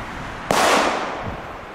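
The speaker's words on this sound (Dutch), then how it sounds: "Goeie knallers, man." A firecracker explodes with one loud, booming crack nearby, followed by a short rumbling echo that fades out.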